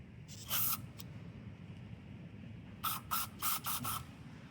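Aerosol cleaner is sprayed into the small idle port passages of a motorcycle carburetor on a 400cc drag bike: one short hissing burst, then a cluster of four quick spurts, close and faint over a low room hum.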